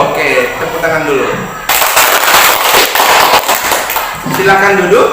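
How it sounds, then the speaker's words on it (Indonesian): Seventh-grade students in a classroom clap their hands in a loud, sustained burst of rapid applause lasting a few seconds, with a voice speaking just before and after it. "Oke, tepuk tangan dulu"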